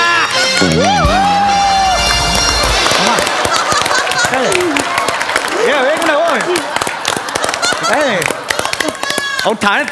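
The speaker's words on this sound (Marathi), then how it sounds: "टाळ्या थांबू आधी" An audience at a Marathi comedy show claps in a loud, dense wave of applause and cheering, while someone talks over it and honk-like vocal sounds cut through.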